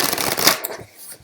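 Golden Dawn Initiatory Tarot cards are shuffled by hand in a brisk riffle of dense papery flutter for about a second, then a couple of soft taps as the deck settles.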